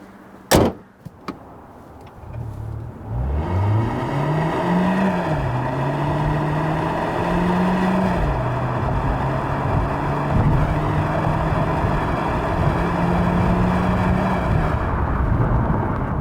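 A 2020 Hyundai Kona Hybrid with a 1.6-liter turbo, six-speed DCT and front-wheel drive pulls hard to 60 mph, engine note rising and stepping through several gear changes over a steady cabin roar, after a short thump at the start.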